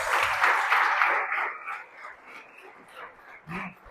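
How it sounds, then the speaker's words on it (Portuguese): A church congregation claps for the Word of the Lord during a sermon, a dense burst of applause that fades after about a second and a half, with scattered quieter claps following. "salve de palmas para a palavra do Senhor"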